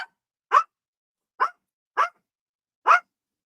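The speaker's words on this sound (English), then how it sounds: "As Winston barks at him, all he's doing is just hanging out there" A dog barks five times in short sharp bursts, spaced irregularly over a few seconds, loud and close with silence between barks and no talking.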